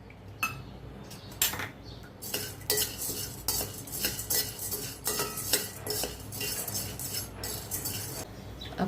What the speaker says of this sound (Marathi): आता चणा डाळ भाजून घेऊया।